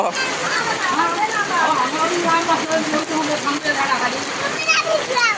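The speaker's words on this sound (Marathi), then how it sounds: "पाऊस आला जोरात बघा हा केवढा पाऊस आला" Heavy rain pours steadily and loudly in a village, a dense continuous hiss of drops splashing on surfaces, with people talking over it.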